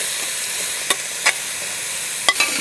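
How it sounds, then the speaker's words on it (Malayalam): Grated beetroot frying in ghee in a pan and being stirred, a soft continuous sizzle broken by three or four brief spoon clicks against the vessel, close by, with no voices. "നമ്മൾ ഗ്രേറ്റ് ചെയ്ത് വെച്ച ഈ ഒരു ബീട്രൂട്ട് ഇതിലേക്ക് ഇട്ടെടുക്കാം"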